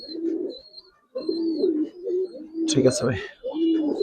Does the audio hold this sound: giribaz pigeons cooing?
yes